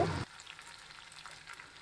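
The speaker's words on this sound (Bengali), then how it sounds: "তো মশলাটা ভাজা হয়ে গেছে" Spices frying in a pan before chickpeas and potato are added sizzle with a soft continuous frying hiss and faint crackles, after a brief louder burst at the start.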